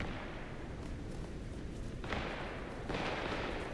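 Distant gunshots from a shootout in Vampire the Masquerade Bloodlines 2 crack out over a low ambient rumble, two sharper bursts standing out near the end, faint and muffled as if from some way off.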